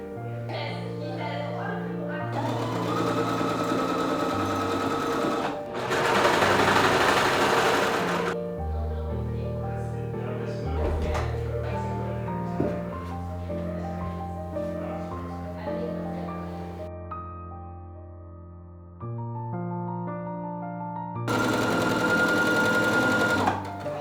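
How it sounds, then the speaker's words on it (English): A home sewing machine stitches a shirt in long bursts of fast, steady mechanical whirring and chattering, separated by short pauses, close and fairly loud, with light music running underneath throughout. "I'm gonna see if I can spend a few minutes sewing here and maybe even finish my shirt tonight"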